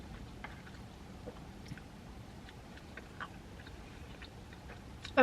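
Quiet, close chewing and biting of naan dipped in creamy tikka masala: soft wet squishes and small crunchy clicks spread unevenly across a few seconds over a low hiss.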